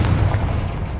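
A Confringo fire spell explosion in Hogwarts Legacy, a loud, deep, rumbling boom that fills the whole second, close and heavy in the low end.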